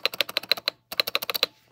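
Keys clack in quick bursts on a Womier WK61 mechanical keyboard, a rapid run of crisp presses, a short pause, then another run, close and alone.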